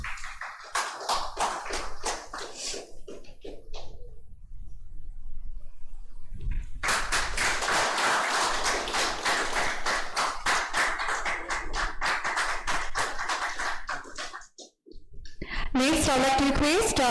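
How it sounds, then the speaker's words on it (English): Applause welcoming a deputy director forward at a dock work safety workshop: clapping from a modest audience with sharp individual claps, broken by short pauses, and ending in a burst of other noise. "So let's welcome sir again with a huge round of applause"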